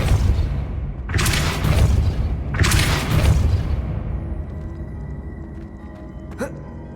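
Two loud Depulso force-push spell blasts from the Hogwarts Legacy video game, each a broad whooshing burst about a second long, over a steady rumbling game ambience with a faint later knock.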